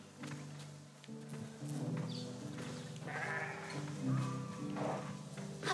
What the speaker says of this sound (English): Oh, they're so cute. They're making sheep noises.